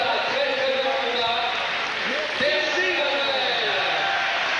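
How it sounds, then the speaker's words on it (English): A boxing crowd applauds and cheers after a bout, steady dense clapping throughout with a commentator talking over it. "So big hand then from this crowd for these two men."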